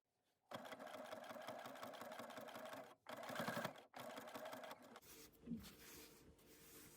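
A sewing machine runs steadily as it stitches over pins on a quilted pot holder, in two long continuous bursts with a short pause between them, then slows into softer, uneven stitching, close and loud with no talking.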